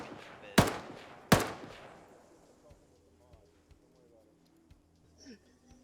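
Two heavy gunshots crack out from an NPC during a video game military operation, loud and booming with a long decaying echo, followed by fainter scattered shots and a voice talking in the background.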